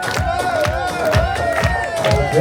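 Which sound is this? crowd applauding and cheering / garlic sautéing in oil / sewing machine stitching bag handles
crowd applauding and cheering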